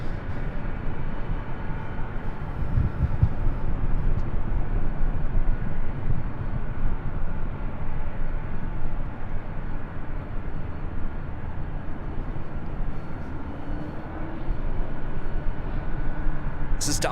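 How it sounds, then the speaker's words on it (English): An American Boeing 777 airliner taxis at LAX, giving a steady, broad low jet rumble and roar that holds evenly throughout at moderate loudness without clear peaks. "it looks like that American 777 heading to the south side"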